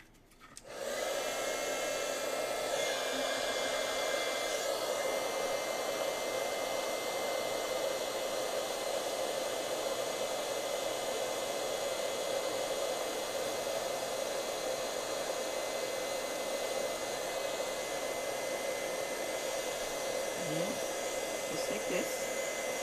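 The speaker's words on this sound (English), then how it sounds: "Take your heat tool and heat set." A handheld heat tool blows a steady, loud, unbroken whoosh for about twenty seconds while heat-setting embossing powder over Versamark resist ink.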